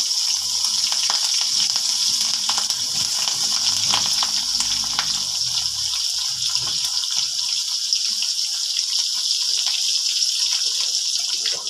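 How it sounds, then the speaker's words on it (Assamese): Sliced onions frying in oil with garlic, green chilies and bay leaves for a bamboo shoot and fish curry give a steady, even sizzle that hisses without a break and has no talk over it. "এতিয়া মই দিছোঁ নহৰু 3 ফুট, জলকীয়া 2টা, তেজপাত 2খন আৰু পিঁয়াজখিনি ভালদৰে ভাজি ল'ম।"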